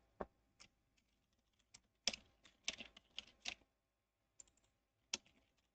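Computer keyboard typing during a game development session: quiet, sparse key clicks in short bursts, close to the mic and alone.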